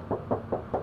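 Four evenly spaced knocks on the metal tailgate of a 2019 Toyota Rush S TRD Sportivo automatic, dull hollow raps close up with nothing else heard.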